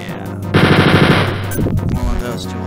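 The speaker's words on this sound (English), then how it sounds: "he has a chain gun and a rocket launcher" Rapid chain gun fire from a boss in the retro shooter Wolfenstein 3D, a loud, fast, steady stream of shots lasting about a second before trailing into further game sounds.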